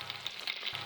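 Sausages fry in a pan on a small camp flame with oil spitting, a soft steady sizzle with scattered pops and a sharper spatter burst at the very end.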